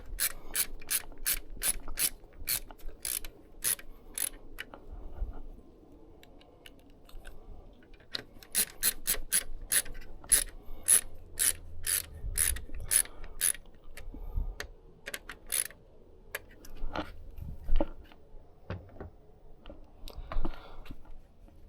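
Ratchet driving screws to fasten a camera cover onto a new grille of a VB WRX: bursts of rapid, crisp clicks in close, steady runs, pausing between strokes, with soft handling noises in the gaps.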